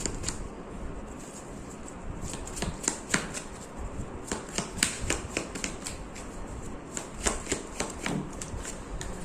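Tarot cards are shuffled by hand at close range, a quick run of crisp riffling slaps and soft flicks in irregular bursts, with no talking.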